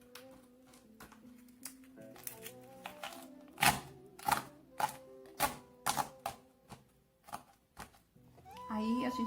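Small mosaic pieces are pressed against wood and snap apart in a run of sharp clicks and cracks, each one close and distinct, with soft handling noise between the breaks.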